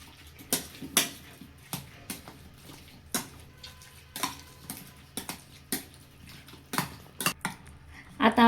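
Cooked pav bhaji vegetables are mashed by hand in a pot, giving a series of irregular clinks and soft squelchy knocks spaced about a second apart, close and moderately quiet.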